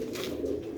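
Domestic pigeons of an old pure breed kept by a fancier cooing in a low, steady, throaty hum that runs through the whole brief moment, close and fairly quiet with no talk.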